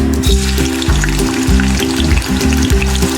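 Onion frying in a pan for a Konkani-style wet shrimp curry, a steady close sizzle with repeated low rhythmic tonal pulses about every half second running underneath.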